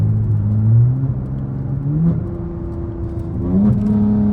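A Mopar car accelerates hard in sport mode, its engine rising in pitch through several strong pulls with brief drops between them, loud and close.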